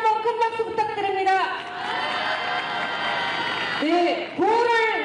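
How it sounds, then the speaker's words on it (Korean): Crowd at a street protest rally in South Korea cheers and claps loudly and steadily for several seconds, with a voice shouting over the start and more shouting near the end. "다시 한번 큰 박수 부탁드립니다."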